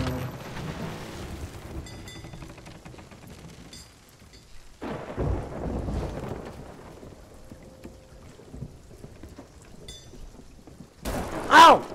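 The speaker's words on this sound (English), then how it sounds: "Oh my god, I just got struck by lightning." A lightning strike with rolling thunder in the pirate game The Fate of the Morningstar: low rumbling crashes swell and fade in waves over rain and sea ambience, ending in a sudden sharp, loud crack.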